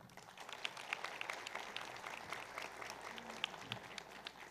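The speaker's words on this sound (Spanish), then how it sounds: "recibimos con un caluroso aplauso" Steady applause from a crowd at the opening of a gastronomy symposium, many hands clapping at a moderate distance, sustained throughout with no pauses.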